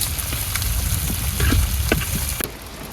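Shrimp pieces fry loudly in oil in a wok, a close, dense crackling sizzle with spatula scrapes and clicks scattered through it.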